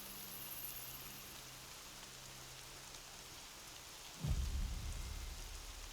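Steady rain hisses throughout in Horizon Zero Dawn, then a deep rumble of thunder rolls in near the end and lingers loudly.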